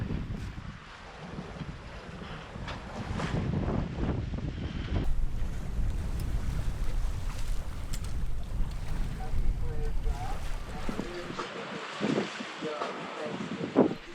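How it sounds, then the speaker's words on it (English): A sailboat runs downwind through big ocean waves, with constant wind buffeting the microphone and water rushing and slapping against the hull, steady and fairly close throughout. "couldn't really handle downwind sailing in big waves like this"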